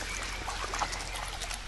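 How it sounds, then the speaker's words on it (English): Cold mountain water from the Sierra Madre near Puerto Vallarta flows and trickles as a steady, close rush, with no voices over it. "Man, that is pure Sierra Madre mountain water, isn't it?"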